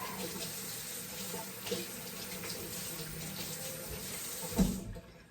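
Tap water runs steadily into a kitchen sink as small carrots are washed for a crock pot vegetable soup, a continuous close rush with a brief clunk near the end.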